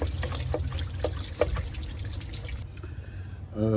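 Clean flushing water drains from a Lexus LX470 / Land Cruiser 2UZ-FE 4.7 V8 engine during timing belt work, a steady trickle and dribble of liquid close by with a brief spatter near the end.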